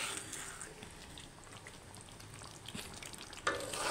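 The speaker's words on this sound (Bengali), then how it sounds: "দেখেন আলুগুলো সহকারে সুন্দরভাবে নাড়বো" Chicken curry with potatoes being stirred in a pan: a quiet, soft sizzle with light scraping and a small clatter near the end.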